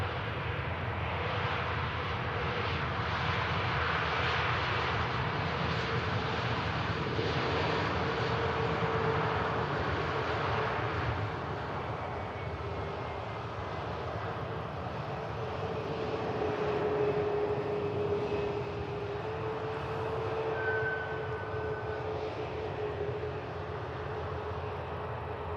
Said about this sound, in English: That's a nice landing.